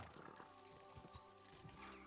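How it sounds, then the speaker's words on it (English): Horses gallop in Kingdom Come: Deliverance II, with steady clip-clop hoofbeats under a brief whinny and a continuous low rumble of game music. The race is loud and close throughout. "Let's really spur these horses on, eh?"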